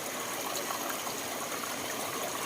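Water from a natural spring rushes in a steady, broadband gush, filling the whole stretch at a moderate level with no breaks and no voices.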